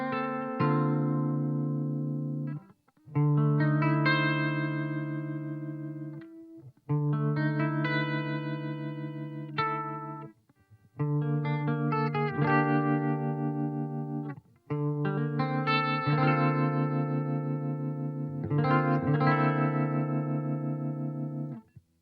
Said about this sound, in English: adds a little bit of volume tremolo to the chorus